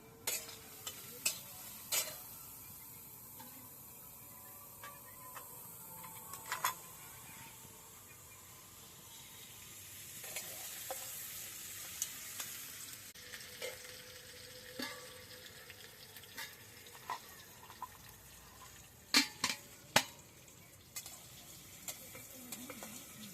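Chopped onion sizzling in hot oil in a pan, a quiet steady hiss broken by occasional louder scrapes and knocks as it is stirred.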